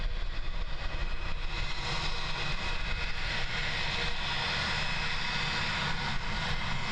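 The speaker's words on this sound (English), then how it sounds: "Jetstar 240. Next out the door, off to Auckland, taxiing all the way up to Alpha 2 today" Jetstar jet airliner taxiing at Christchurch Airport, New Zealand, a steady distant engine roar and whine mixed with wind noise, continuous and fairly faint.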